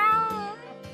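A cat meows in the video game Tales of Xillia 2, one clear, tonal meow that falls in pitch, with a brief softer follow-up near the end.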